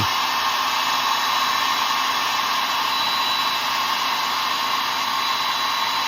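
Steady loud whoosh of a hair dryer blowing close and continuous for several seconds, drying paint on a carved wooden Christmas cardinal ornament, with no voices.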